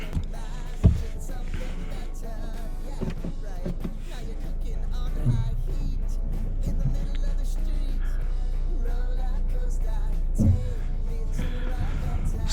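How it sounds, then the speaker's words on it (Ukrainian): Inside a 2023 Hyundai Tucson 2.0 MPI 4WD rolling over cobblestones: a steady low cabin rumble carries throughout, with a few sharper thumps from the uneven stones. "Зараз ми йдемо по брусчатки, зараз в салоні."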